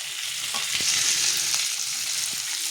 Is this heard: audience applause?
no